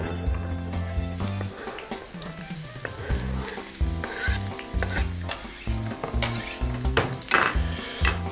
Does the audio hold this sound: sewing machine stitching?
no